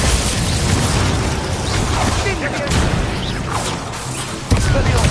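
A Glacier spell cast in the video game Hogwarts Legacy, a busy stretch of crackling bursts, pops and rumbling impacts lasting several seconds with a sharp hit near the end, under a speaking voice.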